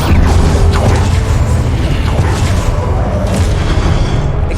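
An Incendio fire spell is cast in the Hogwarts Legacy video game, a loud, dense roaring blast with heavy low booms and crackling that fill the whole stretch without a break.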